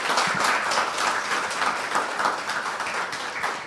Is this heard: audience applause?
yes